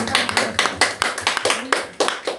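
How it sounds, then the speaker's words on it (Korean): Church congregation clapping in a series of sharp, rhythmic bursts, about a dozen loud near claps at an even beat, with a little voice underneath. "아멘 하신 분들 박수"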